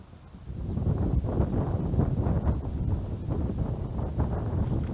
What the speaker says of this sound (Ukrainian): Саме головне, щоб не дулось цей сильний вітер. Він так поривами задуває.